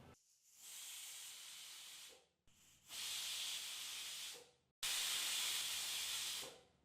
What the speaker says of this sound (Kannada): cooker 3 whistle ಬಂದಾಯಿತು